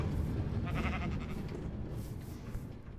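Blocky sheep in the Feed the Beast Minecraft modpack bleat several times over a steady bed of game noise, each call fairly close and clear, with no talking over it.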